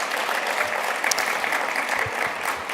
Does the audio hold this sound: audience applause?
yes